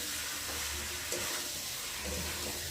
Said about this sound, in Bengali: সব মশলা চিকেন আলু পর একসাথে ভালোভাবে কষিয়ে নেবো।